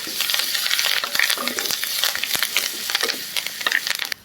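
Drumstick leaves tossed and stirred in a hot frying pan for dal curry, a loud continuous sizzle broken by dense clicking spatula scrapes and taps, close up with no talk.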